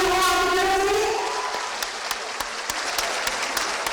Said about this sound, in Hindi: तालियां हो आपकी तरफ से।